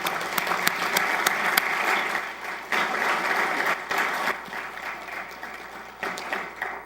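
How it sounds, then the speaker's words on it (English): A room full of people at a firefighter academy graduation applauds law enforcement guests, with sustained clapping that swells and eases in waves, crisp individual claps popping out near the front. "let's give them a round of applause"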